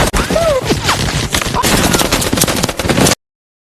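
Dense gunfire bursts from a war film battle as soldiers are cut down, loud sustained volleys and rapid shots filling about three seconds, with brief shouts mixed in before an abrupt cutoff.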